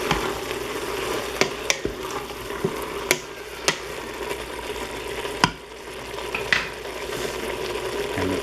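Carne guisada with flour and diced Roma tomatoes is stirred in a hot pot, a continuous low sizzle broken by several sharp scrapes and knocks of the spoon against the metal.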